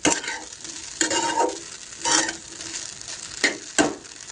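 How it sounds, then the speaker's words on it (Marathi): Sabudana khichdi stirred in a pan after the gas is turned off, with several close scraping strokes of a spoon through the soft sago and a light crackle of hot oil between the strokes. "आणि आता आपण गॅस बंद करून मस्तपैकी हलून घ्यायचं"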